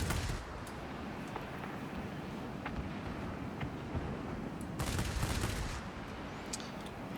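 Aircraft machine guns fire during a dogfight in the World of Warplanes video game, heard as faint, rough, continuous crackling bursts over steady engine and wind noise.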